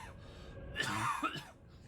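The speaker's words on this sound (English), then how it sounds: "Okay, not done coughing." A person coughs and clears their throat in a short burst of a few harsh coughs, close and fairly loud, set against quiet background hum.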